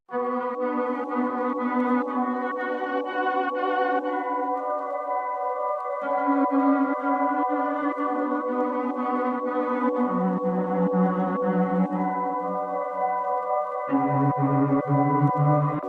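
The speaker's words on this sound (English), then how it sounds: "I pitched it down and it sounds like this." A low, dark pitched-down violin melody plays in long sustained notes that shift pitch every few seconds, steady and full, with no talking.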